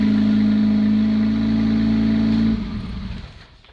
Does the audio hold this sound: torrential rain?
no